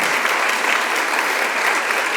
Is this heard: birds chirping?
no